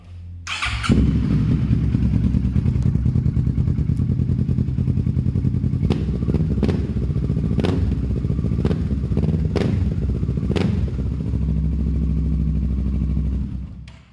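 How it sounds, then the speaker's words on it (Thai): A Kawasaki Versys 650 motorcycle engine from 2017 idles steadily and loudly up close in a glass-walled room, with a few sharp clicks and a brief rev near the start, running continuously without voices. "มาฟังเสียงเครื่องหน่อยเนาะ"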